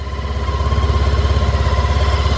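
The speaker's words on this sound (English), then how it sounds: "It doesn't sound too obnoxiously loud, but you can tell it's quite a powerful motorcycle." A Honda ST1300 Pan European motorcycle idles up close with a steady, even, throbbing pulse and a low mechanical hum, loud and alone.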